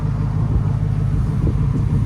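A 2008 BMW 550i with a 4.8L V8 and straight pipes, fitted with an X pipe, idles with a steady, deep, close exhaust rumble and no revving.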